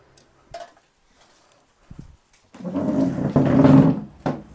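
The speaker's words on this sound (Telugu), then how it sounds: "నేనైతే మూత పెట్టేస్తున్నాను" A lid being set onto a cooking pot of boti gongura, a few soft knocks and a scrape followed by a louder rattling clatter as it settles, close by in a quiet room.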